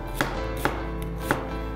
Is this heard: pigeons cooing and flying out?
no